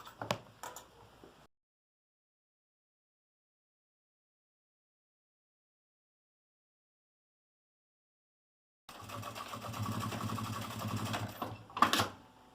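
A sewing machine stitching a seam on a zippered pouch, a brief burst of stitching, a long silence, then a steady mechanical whir of running stitches ending in a sharp clack, with no talking.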